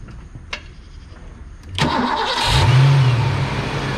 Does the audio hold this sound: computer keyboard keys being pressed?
no